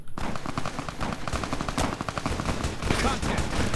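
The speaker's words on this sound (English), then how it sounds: "What are they firing at here?" Rapid automatic gunfire from a video game battle in Fallout New Vegas, dense bursts and overlapping shots crackling loudly and continuously with little pause.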